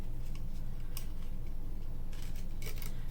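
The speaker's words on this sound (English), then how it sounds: "But we can cut this. I'm using my old scissors." Old scissors cut through gift ribbon in a few quick, crisp snips, scattered across a quiet moment against a low steady background hum.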